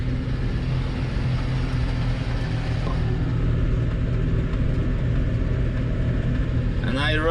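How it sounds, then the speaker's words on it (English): Tractor with a rear snowblower running at 540E PTO works through snow and hunts for traction, giving a loud, steady engine rumble and mechanical drone that lasts throughout, with a brief rattling burst at the end. "Tractor is searching for traction."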